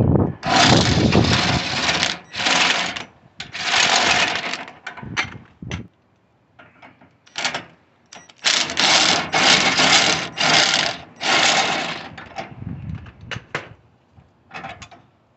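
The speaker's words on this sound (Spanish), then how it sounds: "Igual hay que aflojarlo primero con un maneral porque está bien duro." Tight suspension nuts being loosened with a breaker bar on a 2007 Nissan Sentra 2.0 lower control arm, giving loud bursts of ratcheting, clanking metal work in long rough runs separated by brief pauses, with no talk.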